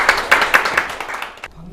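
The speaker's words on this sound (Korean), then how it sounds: "고재호 상임이사님을 박수로 맞아주시기 바랍니다." Brief applause from an audience at a Korean forum on arts education for people with developmental disabilities, welcoming a speaker; a short burst of clapping that fades quickly, with voices around it.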